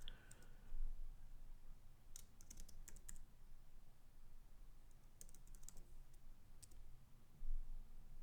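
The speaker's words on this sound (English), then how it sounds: "Let's just type Willard and see what happens." Computer keyboard typing comes in two short bursts of quick, faint key clicks separated by a quiet pause, over a soft steady background hiss.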